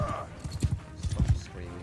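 Horse hooves clip-clopping in the video game Mount & Blade, Calradia, a quick uneven run of low thuds at close range, with a faint voice briefly at the start.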